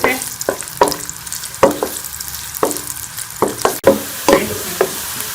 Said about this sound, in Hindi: तो अब हम इसको फ्राई कर लेंगे गोल्डन कलर आने तक